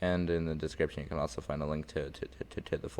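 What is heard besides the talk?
No everyday noises stand out.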